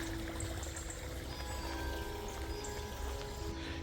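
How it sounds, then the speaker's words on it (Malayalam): Small streams run through a forest, a steady, close rush of flowing water with a faint trickle and no clear breaks. "അരുവികളൊക്കെ ഒഴുകുന്നുണ്ട്"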